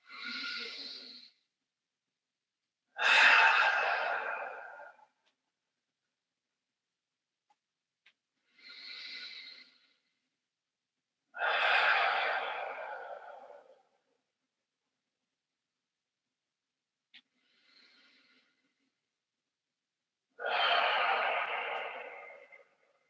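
Slow, deep breaths during a Pilates stretch, several long inhales and exhales spaced by pauses, close and fairly soft with no talk.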